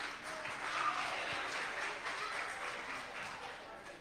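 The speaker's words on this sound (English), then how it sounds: "Another hand clap." Audience applause at a United Methodist church Vacation Bible School, a faint, steady wash of many hands clapping together that continues throughout, with a voice faintly under the clapping.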